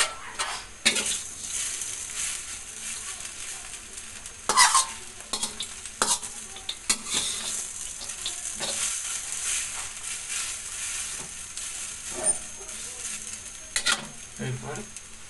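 Food fries in a pan while being stirred, with a continuous sizzle broken by repeated sharp scrapes and clinks of the utensil against the pan, close and fairly loud, without speech.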